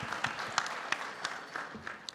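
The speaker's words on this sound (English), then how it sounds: "Round of applause for that." Audience applause at a live podcast taping for a hip-hop honors event: scattered, fairly soft handclaps in an uneven rhythm, sounding somewhat distant and thin rather than a full roaring ovation.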